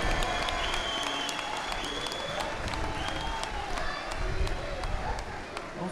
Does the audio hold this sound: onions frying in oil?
no